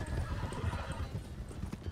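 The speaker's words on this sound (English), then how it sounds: "Is this because of my horse, Mitchell?" Horse hooves clip-clop steadily in the RedM western roleplay game, a continuous rhythmic patter over a busy ambient background with a brief whinny-like tone, no talk over it.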